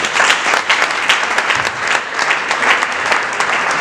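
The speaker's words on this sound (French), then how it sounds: "je vous prie de les applaudir encore une fois." Wedding guests applaud together in a dense, loud burst of clapping that holds steady for several seconds, close by and without talk.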